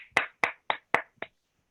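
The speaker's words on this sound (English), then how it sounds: "A huge round of applause for our tag team" Five sharp, evenly spaced hand claps at a Toastmasters club meeting, close and crisp, then silence, more like a single person than a full crowd.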